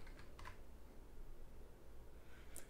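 Keys tapped on a computer keyboard during work in Rhino 3D modeling software, a few faint, scattered clicks over a low steady room hum with no talking.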